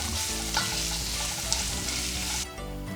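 Minced ginger and garlic stirred into tofu frying in a pan, a steady close sizzle with soft scraping stirs throughout, easing quieter near the end; no talking.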